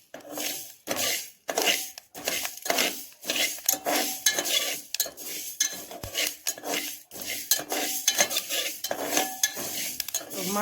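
Fenugreek seeds roasted in a pan and stirred, a metal spoon scraping and clinking against the pan in quick irregular strokes, close and fairly busy, with no talking.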